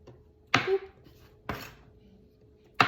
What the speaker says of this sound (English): I like chopping vegetables.